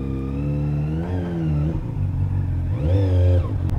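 A Honda CBR600RR motorcycle engine revs up twice, rising and falling in pitch, loud and close, with no talking.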